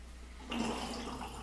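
A Silvertip shaving brush sloshed in a basin of hot water, a soft close swish of liquid that starts abruptly midway and continues as a gentle burble, quiet and alone.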